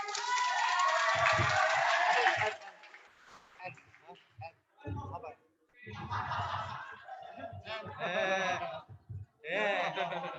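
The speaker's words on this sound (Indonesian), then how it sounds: "Beri tepuk tangan teman-teman" Applause and cheering from an audience at a high school speech contest, a dense burst for about two and a half seconds, followed by people talking and a few scattered voices.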